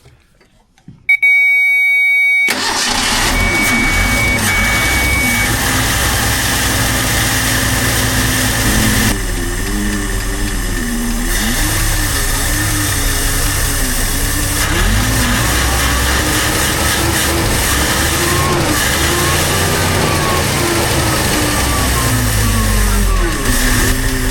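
An old truck, back on the road after about fifteen years with an overheating fault, cranks briefly and then catches, settling into a loud, steady engine run with slight shifts in pitch as fuel is given.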